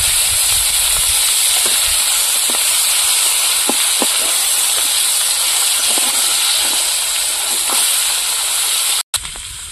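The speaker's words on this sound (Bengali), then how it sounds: "মাছগুলো ভাজা হয়ে গেল" Mochon river fish fry in hot oil, giving a loud, constant hissing sizzle with scattered small pops and crackles throughout before a brief cutout near the end.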